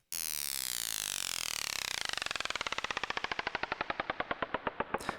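Synth patch built in Serum imitating a clock: a fast stream of sharp metallic ticks that steadily slows and drops in pitch over about five seconds, loud and alone, ending with a brief bright hiss.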